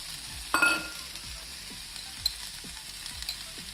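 Chopped mushrooms and onions with salt sizzle gently in a pan over low flame, a soft steady crackle with a brief louder hiss and a few light stirring scrapes.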